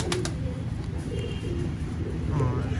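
Pigeons cooing in a loft, a low soft murmur of coos under steady background noise with a few faint brief clicks.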